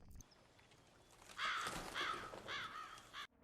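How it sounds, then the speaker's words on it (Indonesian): A crow caws three or four times in a row, harsh and fairly clear at moderate distance, over a faint outdoor hiss with no voices. "Beruntungnya itu hanyalah seekor burung gagak yang membuat Jennifer merasa lega"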